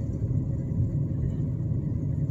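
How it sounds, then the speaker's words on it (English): A car cruising around the town square in Baraboo, Wisconsin, heard from inside as a steady low engine and road rumble, continuous and even, with no talk. "I'm driving around the square in Baraboo, Wisconsin."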